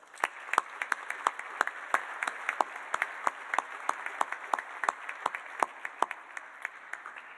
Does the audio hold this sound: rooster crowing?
no